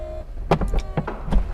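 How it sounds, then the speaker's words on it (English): The power window of a 2020 Audi R8 Performance Spyder V10 lowering, a close electric motor whir broken by several short mechanical clicks and thuds. "First all the window opens, and then the top lifts up."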